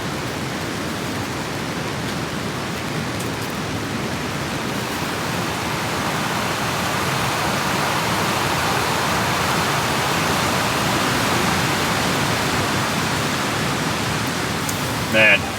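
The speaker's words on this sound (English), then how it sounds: "the river has risen a lot since I've got here. It's quite loud now, it's gushing." A swollen river gushes after heavy rain beside a campsite, a loud, steady broadband rush of water that continues unbroken and swells slightly partway through.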